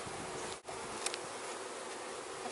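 Honeybees from an opened package box make a steady, dense insect buzz that fills the whole clip at moderate level, with a brief dip partway through and no talk.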